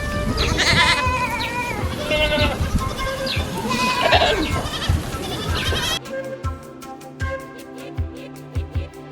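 Several goats bleat on a livestock farm, loud and close, with overlapping calls in a busy first half, then sparser, fainter calls over a steady background of farm noise.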